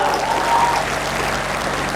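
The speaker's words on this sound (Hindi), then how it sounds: "एक बार ताली वाली मिलके बजाओ यार जरा" Audience applause at a Hindi hasya kavi sammelan comedy poetry show, a steady wash of many hands clapping at close range for the full two seconds with no pause.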